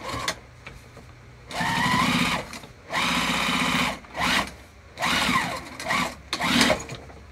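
A sewing machine stitches a crossbody bag in several short bursts of whirring, close and fairly loud, with brief pauses between runs and light handling noise.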